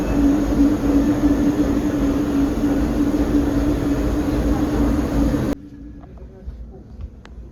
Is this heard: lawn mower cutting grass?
no